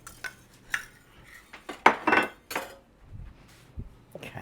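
A utensil clinks and scrapes against a pot while liquid is mixed for boiling pretzel rolls, a handful of bright clatters clustered in the middle, close up, with quieter rustles around them and no voices.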